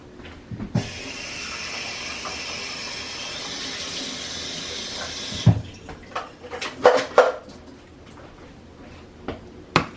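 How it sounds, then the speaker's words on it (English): Water runs steadily from a kitchen tap for about five seconds while a dish is rinsed during meatloaf preparation, then stops, followed by scattered clinks and knocks of handling. "I'm going to rinse this out."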